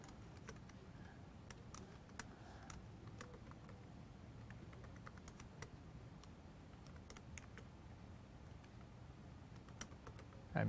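A password being typed on a computer keyboard, a quiet run of close, irregular key taps and clicks spread over roughly ten seconds, with no voices.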